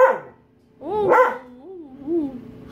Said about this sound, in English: that's barking